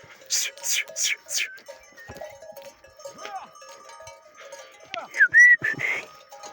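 A flock of sheep heads home at evening, with scattered bleats, a whistle and cowbell-like clinks over a quiet outdoor background; someone speaks briefly and louder calls rise near the end.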